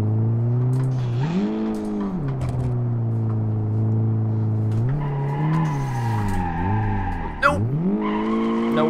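In the BeamNG.drive video game, a car drifts with tires squealing in long sustained tones that bend up and down with the slides, under a steady engine drone.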